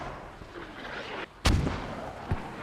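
Mortar fire in an online military shooter match lands as one sharp, loud blast followed by a low rumble, with a fainter thud a moment later over steady battlefield ambience.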